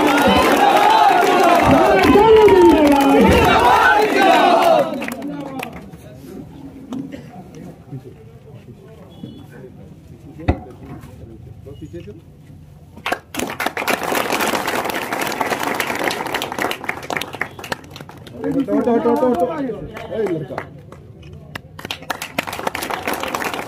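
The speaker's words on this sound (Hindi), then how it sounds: "माननीय सम्राट चौधरी जी का अभिनंदन और स्वागत जोरदार तालियों के साथ करो।" Crowd at a cricket tournament post-match presentation claps and cheers loudly in bursts, with shouting voices and an announcer-like voice over a PA between the waves of noise.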